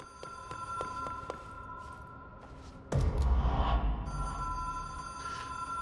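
In the video game Control, a telephone rings in repeated sharp electronic bursts, then a loud low rumble takes over midway as the ringing fades back in faintly behind it.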